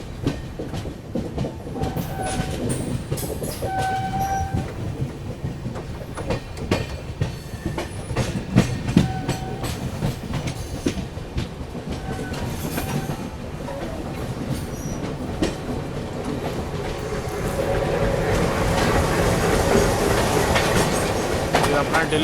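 WDG3 Alco diesel locomotive train rolling past on a curve by a station on the Guwahati–Agartala route, steady clickety-clack of wheels over rail joints with a rising engine rumble toward the end, loud and near.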